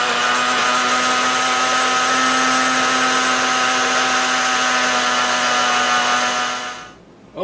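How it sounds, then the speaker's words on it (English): A blender whirs continuously and loudly while breaking down ice cream, a steady motor drone with a fixed pitch that runs for about seven seconds before spinning down and stopping. "now that I have fired up the blender and we've knocked the ice cream down a little bit"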